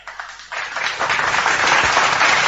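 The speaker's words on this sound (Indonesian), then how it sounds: "Tepuk tangan buat teman kita." Applause for a participant at a talk show gathering, starting abruptly after a brief quiet moment and swelling into loud, close, dense clapping that builds steadily.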